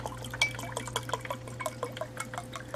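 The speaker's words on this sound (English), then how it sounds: "Just go through my glass, fill up my glass." Water poured from a jug into a drinking glass, a quick run of liquid splashes and gurgles over a steady low hum, close and fairly quiet.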